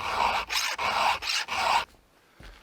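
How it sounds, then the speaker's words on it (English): Hand file rasping across a chainsaw chain to resharpen it after the chain bit into a nail, four steady rhythmic strokes close up, then a quiet pause with a faint knock at the end. "now that the whole saw is sharpened and everything"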